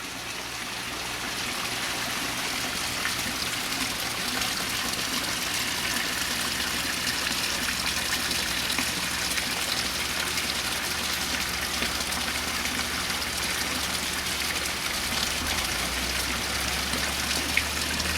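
Steady trickling and splashing water from heavy aeration in a koi pond about 8 by 8 feet and 3 feet deep with a pea-gravel barrel filter, a continuous even wash of water noise with a low hum beneath.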